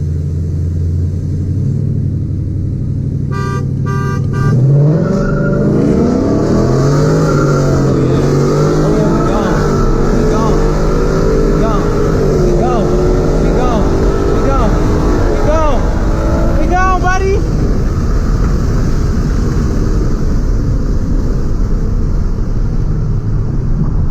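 A Ford Mustang GT accelerates hard in a 40 mph roll race at a Chicago car meet, its engine rising in a loud, rumbling roar that climbs through gear pitches and stays close and continuous, with occasional shouting voices nearby.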